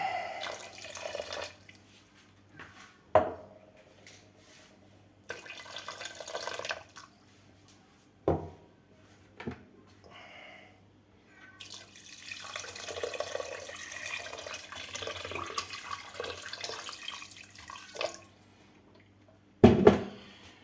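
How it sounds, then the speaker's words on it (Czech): Water is poured into a pot of turmeric-tinted vegetable broth as it is made in the kitchen. Several seconds of steady pouring come between scattered clinks and knocks, all fairly close by. "Tak, ještě trochu té vody."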